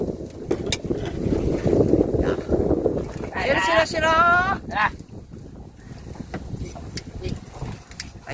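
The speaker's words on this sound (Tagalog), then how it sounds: "Ay, malakas ang hangin." Gusting wind buffets the microphone with a rough, blustery roar while a voice briefly speaks and a sharp squeaky sound rises in the middle.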